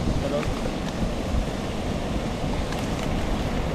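A loud, steady rush of a waterfall by a river fills the whole stretch without a break, dense and broadband, with no distinct voices.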